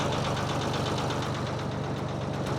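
A Ford 4000 tractor engine runs at a steady, rhythmic knocking idle, a low diesel chug that stays constant and fairly faint throughout.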